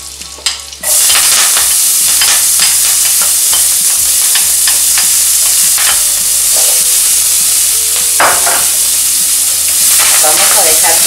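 Chopped onion and parsley sauté loudly in a pan for a lasagna filling, a steady crackling sizzle broken by stirring scrapes, close and continuous, with no talking.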